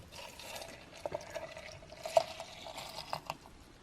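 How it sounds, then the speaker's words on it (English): Milk streams from a cup into a blender jar holding kiwi, banana, oats and maple syrup for a breakfast smoothie, a soft, quiet pour with a few faint splashes and clinks in a calm kitchen. "And I'll pour over a cup of milk."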